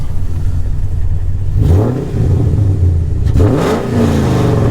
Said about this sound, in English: If you want to rev it up, feel free.